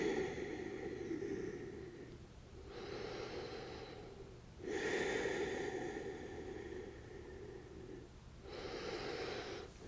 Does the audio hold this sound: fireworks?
no